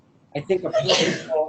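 A single sharp sneeze from someone in the room, close and abrupt, bursting out around a lecturer's talk about insect pest biology, with speech continuing over and after it.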